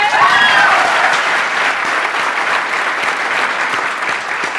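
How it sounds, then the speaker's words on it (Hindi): Loud, dense applause from a large seated audience at a motivational talk, a continuous roar of clapping that starts strongest and holds steady throughout. "इन लोगों के लिए जोरदार तालियां।"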